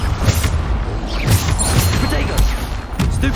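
Bombarda explosion spell cast in Hogwarts Legacy, a dense loud stretch of booming impacts and crashes in quick succession amid ongoing combat effects.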